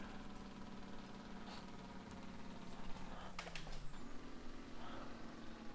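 Kenworth K100 long-nose truck in a driving game with its exhaust brake engaged, a steady low engine drone dropping in pitch and then settling back, with no talking.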